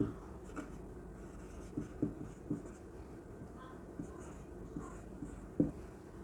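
Chalk or marker taps and scrapes against a classroom board in short, irregular strokes, quiet and close, with faint room noise between marks.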